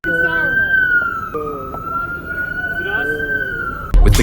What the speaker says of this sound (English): please get that siren shut off